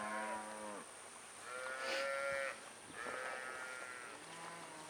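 Cattle on a drive in Matagorda, Texas, low out with several long, drawn-out moos, one after another, at moderate distance over steady outdoor background noise, with no talk.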